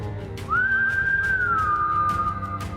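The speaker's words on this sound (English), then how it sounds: "And I whistle." One person whistles a single sustained, slightly wavering note that holds for about two seconds before fading, close and clear over faint background hum.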